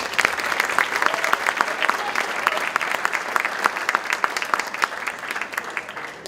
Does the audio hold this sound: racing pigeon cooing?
no